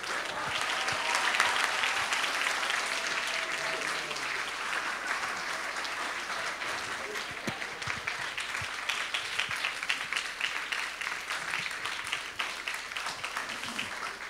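Sustained applause from a school audience after a student's short speech, dense steady clapping filling the whole stretch without pause and fading only slightly toward the end.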